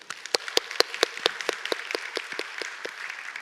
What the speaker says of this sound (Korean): 우리를 하나님의 놀라운 선교로 부르신 하나님께 한번 영광의 박수 드리겠습니다.